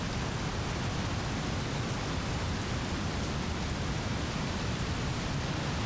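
Rain pours in a dense, steady hiss, a broadband wash with no breaks or distinct drops, constant and fairly loud from start to finish.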